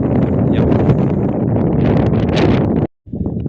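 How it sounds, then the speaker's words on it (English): Strong wind buffets the microphone at the summit of Pic de Bertagne in the Calanques, a loud continuous roar with gusty rushes that cuts out abruptly near the end and then resumes. "That was quite windy, as you saw."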